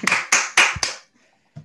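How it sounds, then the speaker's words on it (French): One person clapping: four sharp, evenly spaced claps, then a pause and a single softer clap, close and without any crowd. "Merci, j'applaudis aussi."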